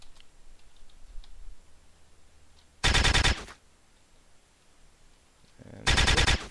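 Two short bursts of rapid video-game gunfire from Halo: CE with a custom muzzle flash, each loud and about half a second long, separated by quiet faint background.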